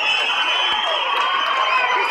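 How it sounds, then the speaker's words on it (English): A boxing crowd roars steadily after a fierce round, a loud, dense wall of cheering and shouting that holds at a constant level throughout. "Crowd going absolutely wild!"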